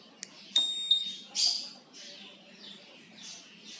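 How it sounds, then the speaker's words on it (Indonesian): Honda Vario 150 scooter alarm armed by remote: a few short electronic chirps and beeps, close and faint, followed by softer tonal traces. "Cara menghidupkan alarm ya, tekan tombol ini ya."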